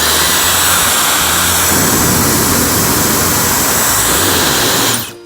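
Dyson Airwrap hair styling tool blowing air, a loud steady rushing whoosh with a low motor hum that shifts slightly partway through, then cuts off abruptly at the end.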